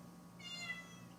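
A cat meows once from under a desk, a single short, close, clear call over a faint indoor hum.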